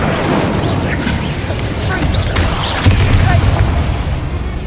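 The Incendio fire spell from Hogwarts Legacy, cast in gameplay, sounds as a loud, continuous roaring whoosh with heavy low-end rumble and a booming swell near the end, close and dense throughout.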